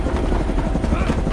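A helicopter roars close by during a scene in a Russian war movie, its rotor pulsing rapidly and loudly with a steady engine drone throughout.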